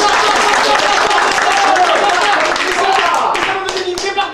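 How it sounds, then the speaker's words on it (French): An audience claps for clowns at a performance, brisk, loud clapping from several people nearby that thins toward the end, with voices speaking over it. "Et ils se sont mis à applaudir."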